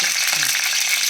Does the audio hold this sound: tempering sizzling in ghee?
yes